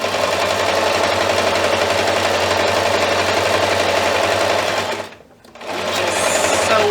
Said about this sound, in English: Just sew one side of my zipper on.